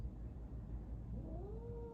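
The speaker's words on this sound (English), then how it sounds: "Oh, that's the cat now." A cat meows indoors, a rising, drawn-out call near the end over a steady low household hum, fairly close but not loud.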